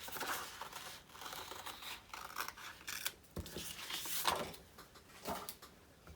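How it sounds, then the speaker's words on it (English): A mini cut and emboss die-cutting machine presses stocking-shaped dies through card, giving soft rubbing and scraping textures with a few sharper clicks and crunches, close and fairly quiet, with no voices. "I'm using the mini cut and emboss machine, which is great to have on your desktop"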